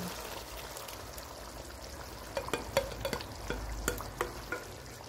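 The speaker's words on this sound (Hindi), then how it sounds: "अब इसमें टमाटर और प्याज का पेस्ट डालेंगे।" Tomato and onion paste frying with tender boneless mutton in a karahi, giving a steady sizzle with a run of sharper crackling pops toward the end, close and fairly quiet, no talk.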